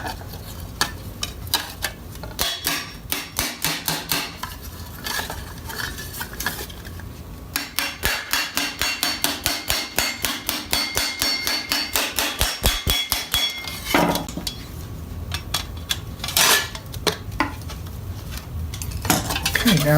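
Sharp metallic clanging from a hammer shaping a steel armor vambrace plate: long runs of rapid, close blows broken by short pauses, then a few scattered strikes.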